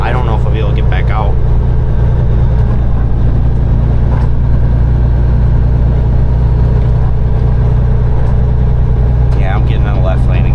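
A Peterbilt 389 truck engine drones loud and steady while its wheels spin in snow, a continuous heavy rumble beneath someone talking throughout.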